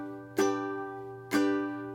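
Two sharp ukulele down strums in standard GCEA tuning about a second apart, each chord ringing out and fading slowly, with no voices.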